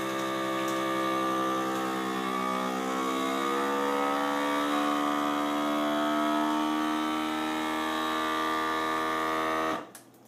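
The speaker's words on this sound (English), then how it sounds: "I'm going to click on the vacuum seal button here. And it's going to get a little loud here" A vacuum sealer pumps air from a bag of homemade oatmeal packets, giving a loud, steady motor drone whose pitch shifts slightly as the bag tightens, then it cuts off abruptly near the end.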